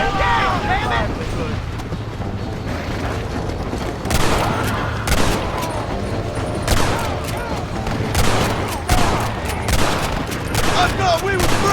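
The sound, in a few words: gunfire in the video game Red Dead Redemption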